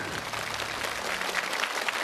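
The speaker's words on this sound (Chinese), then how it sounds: "掌声" An audience at a televised stunt challenge show applauds with dense, continuous clapping that stays fairly even throughout, without voices standing out.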